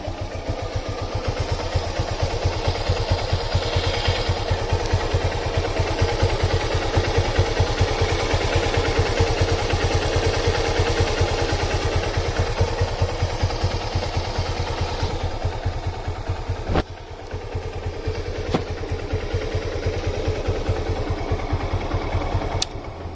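A Honda Hornet 160R motorcycle engine, just fitted with a new tensioner, idles steadily and close up with an even mechanical patter, a couple of brief dips near the end, and no talk.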